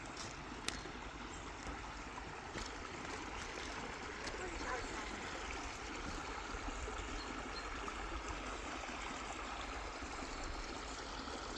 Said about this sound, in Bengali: এই যে পানি আসে, বিভিন্ন জায়গা থেকে পানিগুলো আসে